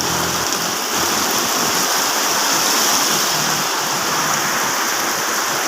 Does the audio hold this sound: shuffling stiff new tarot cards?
no